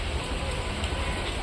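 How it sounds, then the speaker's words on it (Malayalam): Heavy rain falls around a bus stop, a steady dense wash of noise close by with no voices. "നല്ല മഴയുണ്ട്."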